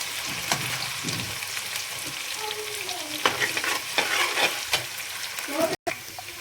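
Garlic and ginger fry in very hot oil, a dense continuous sizzle with scraping stirs from a spoon, close and loud throughout.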